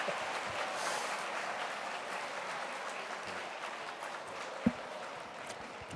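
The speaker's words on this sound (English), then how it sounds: "keep clapping. Keep clapping" An audience claps steadily throughout at an appreciation event honoring Rita Smith Wade-El, forming a continuous, dense wash of applause with one sharp louder clap near the end.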